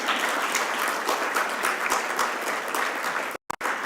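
A conference audience applauds steadily to welcome a speaker walking up to the stage, a dense, sustained clapping from a large crowd that cuts off abruptly near the end.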